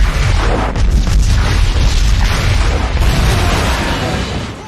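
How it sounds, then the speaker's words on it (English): Depth charge explosions in a submarine movie roll out as a loud, deep, sustained boom with heavy low rumble that barely fades across the stretch. "During a depth charge attack that they can't shoot back"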